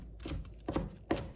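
A knife chops food into small pieces with three or four distinct, close, fairly quiet strikes on a board, spaced unevenly.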